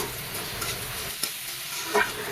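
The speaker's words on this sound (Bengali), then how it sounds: "এখন আমি নেড়ে চেড়ে নিচ্ছি" Potatoes with spices and a pinch of turmeric being stirred in a pan with a spatula, a steady soft sizzle under scraping strokes and a sharper clink near the end, no talking.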